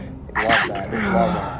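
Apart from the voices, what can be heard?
sneeze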